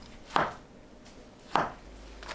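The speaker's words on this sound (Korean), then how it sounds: "표고버섯 대는 딱딱한 밑동을 제거하고 얇게 썰어주세요" Knife slicing trimmed shiitake mushroom stems on a cutting board, two distinct close chopping taps about a second apart in a quiet setting.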